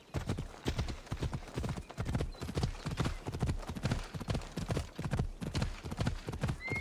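Horse hooves clip-clopping in a steady galloping rhythm while riding on horseback in Assassin's Creed Odyssey, loud and close, with a faint neigh and no talk over it.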